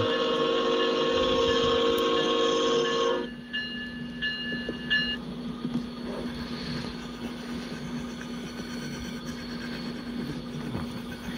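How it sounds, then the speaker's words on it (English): A Roblox military train led by CSX locomotive 5286 rumbles along steadily, with a loud horn blast at the start that cuts off, followed by a continuous rolling drone. "That train's still moving."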